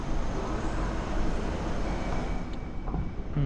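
A low, steady rumble of a passing metro train fills a Singapore metro station, with faint mechanical whine and no talking.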